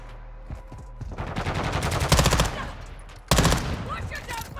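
Rapid automatic gunfire from a BAS-P submachine gun in Call of Duty Modern Warfare 2, in a shoot house training course, with sustained loud bursts and a brief pause before a second burst.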